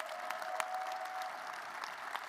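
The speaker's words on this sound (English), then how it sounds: "Let's give him a round of applause." Audience clapping at a basketball coach's introductory press conference, a steady, moderate round of applause with scattered sharper claps and no talk.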